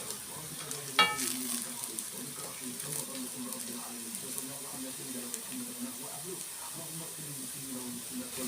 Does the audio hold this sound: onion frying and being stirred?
yes